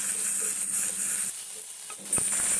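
Chopped tomatoes fry in a pan for fish-egg bhuna with a steady, close hiss and crackle, and a brief stir or scrape near the end.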